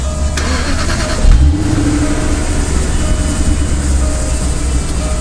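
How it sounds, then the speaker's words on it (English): A 2007 Jaguar XKR Coupe engine cranks and fires with a short low thump, then settles into a steady idle hum inside the cabin, fairly loud and continuous with no talk. "Let me start up the car and I'll show you what I mean."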